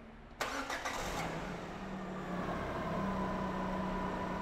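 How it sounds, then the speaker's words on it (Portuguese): A Citroen Air Cross car engine cranks and fires at close range, then settles into a steady, loud idle with a faint high whine over the rest of the clip. "Liga o carro aí pra gente ver então."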